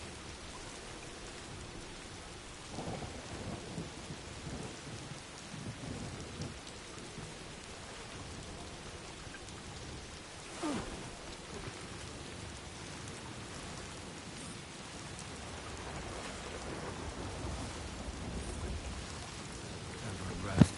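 Timefall rain pours in the Death Stranding 2 video game, a steady soft wash of rain on surfaces with low distant rumbles of thunder swelling at times, fairly quiet throughout.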